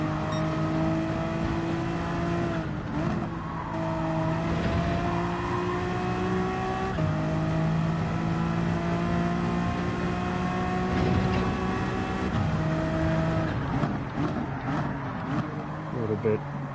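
A Honda NSX race car engine in Gran Turismo 7 revs and shifts steadily, its tone climbing and dropping through gears in a continuous loud drone, with someone talking over it.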